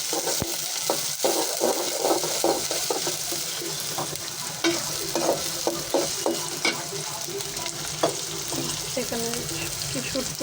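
Lentil dal frying in a pot and being stirred continuously, with an unbroken sizzle and repeated scraping and clinking of the spoon against the pot, close and steady throughout.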